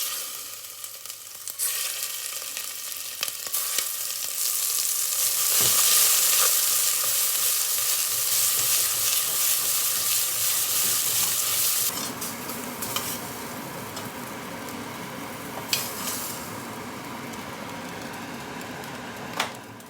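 Meatballs frying in olive oil in a pot over high heat, a steady loud sizzle with bright crackling that shifts in tone partway through, with occasional clinks and stirring bumps and no talking.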